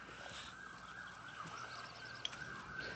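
A police siren wails steadily in the distance, faint and continuous under soft outdoor ambience on a golf course in Louisiana.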